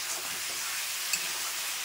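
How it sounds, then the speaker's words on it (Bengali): Meat fries in a pan with a soft, even sizzle and hiss that holds steady throughout, with no voices. "তো আমি কিন্তু মাংসটা একটু ভালো করে একটু ভাজা ভাজা করে নেবো"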